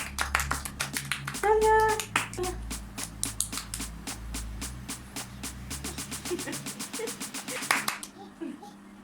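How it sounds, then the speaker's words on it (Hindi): Several hands clap in a quick, steady rhythm for several seconds, close by, with a voice and other talk mixed in before the clapping stops abruptly. "तालियां तो बजवा दो। चला क्लैपिंग।"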